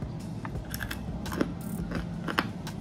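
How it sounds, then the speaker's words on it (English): Freeze-dried Skittles candy crunches crisply between the teeth, a quick run of brittle, crackling bites close up with no talking. "It's so crispy. I feel like I'm eating candy chips."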